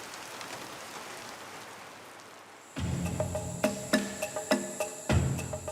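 Steady rain falls on a jungle village in Borneo, a soft continuous hiss that gives way to louder, closer patter with sharp drips and knocks on a surface.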